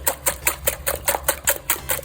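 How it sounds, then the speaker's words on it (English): Ten whole eggs being whisked for a quiche filling make quick, regular rhythmic taps, about four strokes per second, close and steady, with no talking. "So I've got 10 whole eggs. We're going to whisk them up first"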